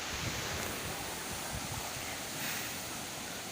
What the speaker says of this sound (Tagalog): Dagat na siya.